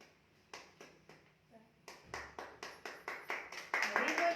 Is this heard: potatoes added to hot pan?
no